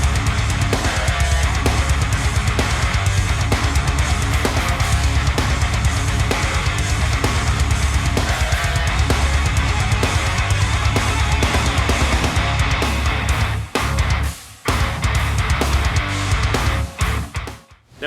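Gusty wind buffets a microphone outdoors in southeast Queensland, a loud continuous low rumble that fills the whole clip with no speech, briefly dropping out near the end.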